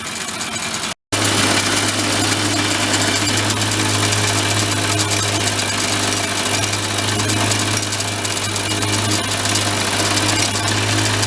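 A small engine on an old mini Harley minibike that sat unused for over twenty years runs loud and steady after a brief cutout, its revs climbing under a buzzy, vibrating drone.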